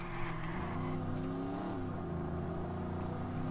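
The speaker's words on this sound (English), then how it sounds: "This car is really noisy." A noisy car engine in the video game Watch Dogs drones steadily with a slight rise in revs, a continuous low rumble heard alone.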